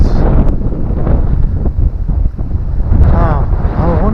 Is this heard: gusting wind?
yes